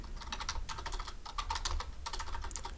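Close, rapid typing on a computer keyboard while coding, a busy patter of key clicks in uneven bursts with no pauses longer than a moment.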